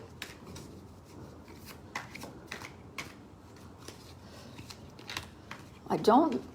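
Tarot-style cards being shuffled for a card reading, a string of soft quick riffling taps and flicks, close and fairly quiet, ending in a slightly louder rustle.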